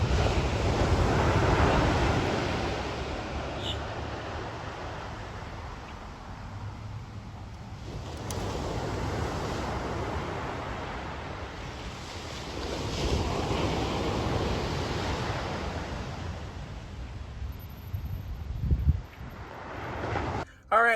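Ocean surf rolling and breaking at a Florida beach near a pier, a steady broad wash that swells and recedes in long cycles, with wind buffeting the microphone and no voices.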